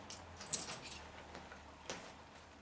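Loose coins jingling together in a hand or container, a few faint scattered metallic clinks in close quiet surroundings.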